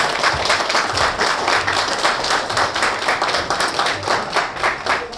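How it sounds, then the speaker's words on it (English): Spectators at a shoe shining competition applaud in a brisk, rhythmic wave of clapping, fairly close and loud, with individual claps pulsing through the continuous sound. "Let's give them a round of applause"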